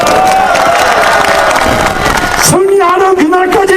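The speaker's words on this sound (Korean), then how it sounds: "마지막 박수" Loud crowd at an outdoor candlelight protest rally, a dense roar of applause and cheering that stops abruptly partway through, giving way to a single voice speaking over the quieter crowd.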